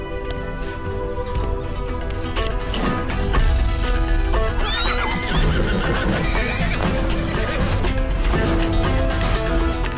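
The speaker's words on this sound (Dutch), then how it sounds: "Ze schieten daar met pijlen bovenop van paarden af." Horses whinnying repeatedly with hoofbeats and a busy crowd at nomad games in Kyrgyzstan or Kazakhstan, loud and continuous, with a rising neigh in the middle.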